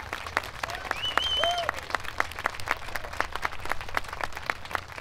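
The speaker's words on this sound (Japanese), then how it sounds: "トロンボンセクションの3人に大きな拍手をお願いします" Steady applause from an audience for a trombone section at a Japan Self-Defense Forces performance, a dense patter of clapping that carries on throughout, with a brief musical slide of notes early on.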